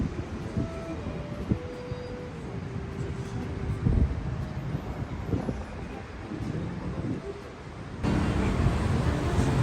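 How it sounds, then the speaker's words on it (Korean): Strong wind gusting across a microphone outdoors on a Vietnamese seaside trip near Vung Tau, a loud continuous rumbling roar with buffeting bursts that surge louder near the end. "바람 엄청 분다."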